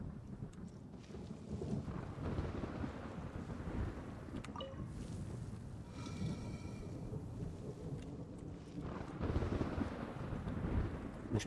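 Lightning strike in the Genshin Impact video game, heard as a continuous thunderous crackling rumble with heavy rain-like noise, loud and steady throughout and swelling again near the end, with no talking.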